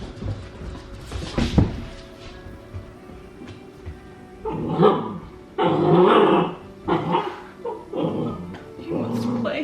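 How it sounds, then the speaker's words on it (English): A playful puppy growls and barks in bursts at close range, rough, gravelly grumbles mixed with short yips, with people talking around it. "We got a puppy, we're gonna show him to you, but right now I'll show you him."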